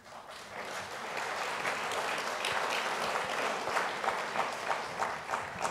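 An audience at a political speech applauds in a steady, dense patter of many hands clapping, holding a constant level for several seconds.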